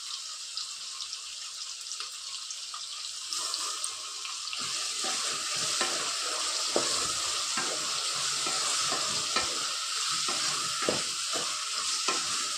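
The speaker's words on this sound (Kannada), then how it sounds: "ಈರುಳ್ಳಿ ಸ್ವಲ್ಪ ರೋಸ್ಟ್ ಆದ ನಂತರ ಟೊಮೊಟೊ ಆ್ಯಡ್ ಮಾಡ್ಕೋಬೇಕು." Onions and tomato roast in oil for rava upma, a dense continuous sizzle that grows fuller partway through, with stirring scrapes and clinks close by.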